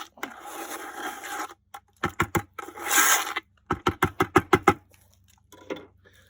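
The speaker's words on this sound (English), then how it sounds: "This is where we use our spatula to scrape sides of the bucket." Spatula scraping the sides of a bucket of CSA mix for a reef panel, a run of short rasping strokes in quick bursts, fairly close, with a longer rub partway through and no talk.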